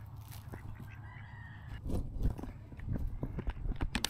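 Fowl, likely geese, crowding around while being fed bread and bird seed, with honking calls, scattered pecking and shuffling footsteps close by, busy and irregular, with no speech.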